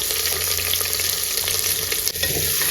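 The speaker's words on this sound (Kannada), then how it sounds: "ಸೊ ಇಲ್ಲಿ ಆನಿಯನ್ ಚೆನ್ನಾಗಿ ಫ್ರೈ ಆಗ್ತಿದೆ" Onions and curry leaves fry in hot tempering oil, giving a steady, dense sizzle that stays loud and even throughout with no voices.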